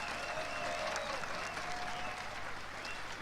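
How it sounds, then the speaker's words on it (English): Steady applause from a large crowd at a CS:GO esports final, dense clapping sustained throughout at an even level with faint cheering mixed in. "Final round of applause for them."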